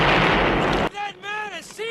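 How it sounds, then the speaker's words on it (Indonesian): A bazooka fires in a Rambo action film scene, one loud close blast with a broadband roar lasting under a second, followed by someone shouting. "Jika tidak, dia akan menembakkan basoka ke tempat tersebut."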